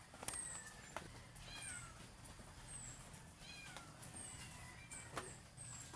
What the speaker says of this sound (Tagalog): Narinig niyo? May pusa.